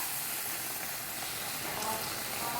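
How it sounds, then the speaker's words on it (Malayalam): Boiling water hits a frying egg curry masala in the pan, producing a continuous loud hiss and sizzle of steam, close and steady for the whole moment. "ഇതിലേക്ക് ഞാൻ തിളച്ച വെള്ളമാണ് ഒഴിച്ചു കൊടുക്കുന്നത്"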